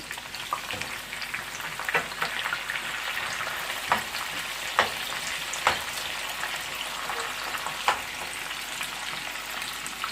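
Onion frying in a pan over low heat for yam and fried egg with spinach, a steady close sizzle with occasional sharper crackles and stirring scrapes, with no one talking.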